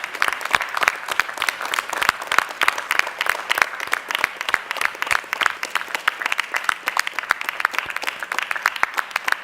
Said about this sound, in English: Huge round of applause for these gentlemen, please.